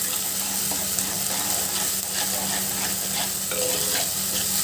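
Ginger garlic paste masala fries in a pan while being stirred, a steady close sizzle with repeated scraping and stirring strokes throughout, no voices.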